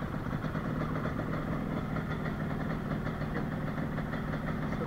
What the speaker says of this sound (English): So that idles perfectly.